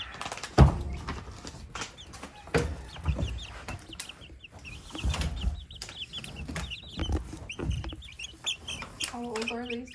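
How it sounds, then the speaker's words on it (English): Week-and-a-half-old chicks chirping and peeping in a busy series of short calls, with clucking hens nearby, over rustling and handling noise, while people talk. "Here are our newly hatched chicks."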